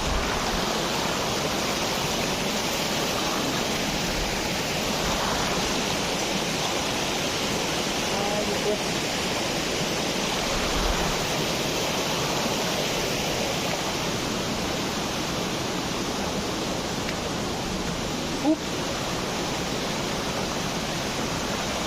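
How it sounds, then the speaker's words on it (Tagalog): Steady rushing water of a forest river fills the scene, a constant broad wash, with faint occasional voices beneath it. "Ito yung isang ilog na dinaanan namin."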